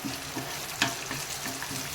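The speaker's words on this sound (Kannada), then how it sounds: "ನೋಡಿ, ಈಗ ಇದನ್ನು ಸ್ವಲ್ಪ ಫ್ರೈ ಮಾಡ್ಕೊಳ್ಳೋಣ ಎಣ್ಣೆಯಲ್ಲಿ." Curry leaves and byadgi chili frying in a little oil for a tomato chutney tempering give a faint, close sizzle with light crackles and a brief sharper pop, no talking.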